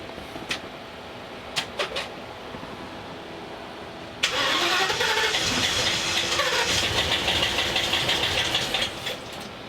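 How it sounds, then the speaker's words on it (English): Engine of a 2017 Thor Vegas motorhome with engine damage, heard after a few faint clicks, then cranking and catching into a loud, steady running roar that holds to the end. "now let's try to spin it over."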